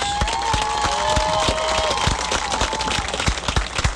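Large outdoor crowd clapping for homecoming candidates during a high school football game, a continuous wash of applause with scattered cheers throughout.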